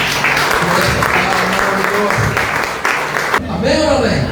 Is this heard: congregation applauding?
yes